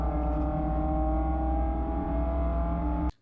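Race cars cross the finish line at Bathurst in a racing video game, one engine holding a loud steady high-revving drone with rich harmonic whine for about three seconds before cutting off abruptly.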